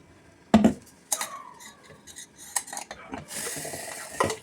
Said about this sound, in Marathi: आणि हे चांगलं आपण मिक्स करणार आहे